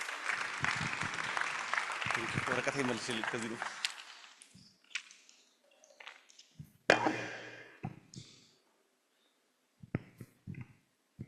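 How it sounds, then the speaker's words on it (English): Audience applause for a speaker at a youth event kickoff ceremony in a library in Addis Ababa, loud and sustained for about four seconds, then thinning to scattered claps and footsteps, with a few late isolated claps. "Round of applause for him, please."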